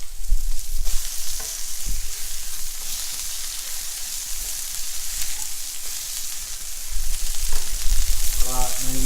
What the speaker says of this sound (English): now it's time to flip these patties.